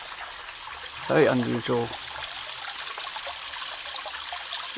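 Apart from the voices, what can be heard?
water trickling in an iron-stained stream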